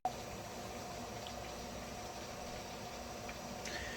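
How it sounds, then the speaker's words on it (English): A pot of water at a rolling boil gives a steady, soft bubbling hiss, even and continuous at low level with no talking. "Now, is this what's called a rolling boil"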